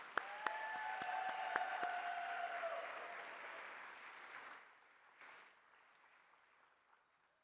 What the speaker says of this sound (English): Everyone, please give applause for Lux.